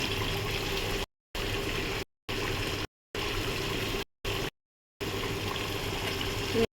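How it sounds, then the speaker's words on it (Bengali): A sweetened milk mixture boiling in a pot on the stove gives a steady bubbling hiss, heard in several chopped segments separated by brief silences. "দেখুন বন্ধুরা আমার ফুটে গেছে।"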